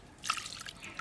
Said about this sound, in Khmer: ចាក់ទឹកចូលបន្តិច